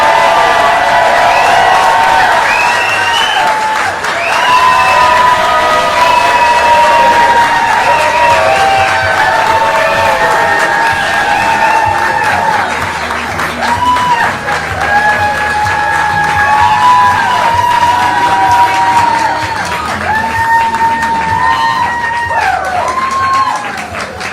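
A large crowd at Alabama Governor Kay Ivey's election victory speech cheers, whoops and applauds continuously and loudly, with shouts and whistles rising above steady clapping throughout.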